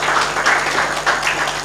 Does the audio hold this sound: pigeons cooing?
no